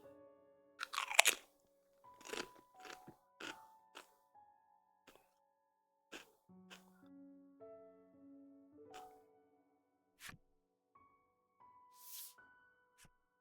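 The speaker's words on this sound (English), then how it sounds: "you want to hear me crunching on some Pringles?" Pringles potato chips crunch near the mic in sparse, irregular bites, chewing, with faint tones from a video game drifting underneath and no talking.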